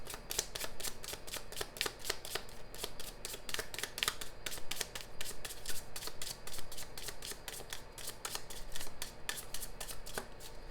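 Tarot cards shuffled over and over at close range, giving a steady run of crisp riffling bursts that repeat in quick succession with no talking.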